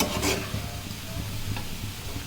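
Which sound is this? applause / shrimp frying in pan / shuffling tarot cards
shrimp frying in pan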